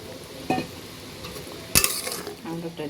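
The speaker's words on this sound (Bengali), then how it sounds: "আলুটা দিয়ে আলুটাকে একটু কষাবো, হালকা কষাবো, বেশি না।" Potato pieces being sautéed in a pan for a fish and eggplant curry give a soft sizzle with two sharp metallic scrapes of the spatula, the second louder, followed by lighter stirring clinks.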